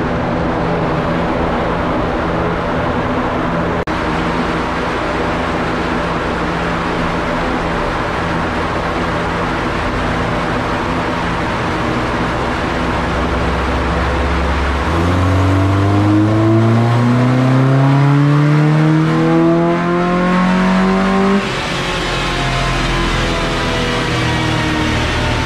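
A Subaru Impreza with an EJ22 engine on a dyno, the engine droning steadily then climbing in a loud, rising rev run that peaks and cuts off, with a sustained, throbbing exhaust roar close by.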